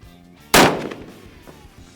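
A single loud rifle shot from a Cooper rifle cracks at close range and leaves a decaying echo, with no voices.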